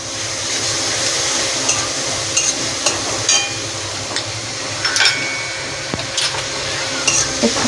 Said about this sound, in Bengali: আমি এবার দিয়ে দেবো কাঁচা লঙ্কা আর আদা বাটা আর রসুন বাটাটা দিয়ে আরও 2 মিনিট আমি ভালো করে ভেজে নেব।